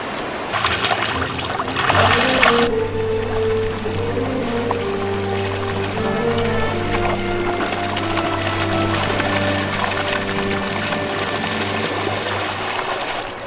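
River rapids and waterfalls along a salmon run rush in a steady, full roar of churning water, with a louder splashing burst near the start and music playing over the flow.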